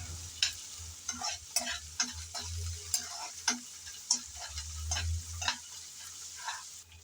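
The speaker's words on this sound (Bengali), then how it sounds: "আদা আর রসুন পেঁয়াজের সাথে ভালো করে নেড়ে চেড়ে একটু ভেজে নিতে হবে যাতে কাঁচা গন্ধটা চলে যায়" Ginger, garlic and onion fry in a pan with a constant soft sizzle, while a spatula scrapes and taps against the pan in irregular strokes close by.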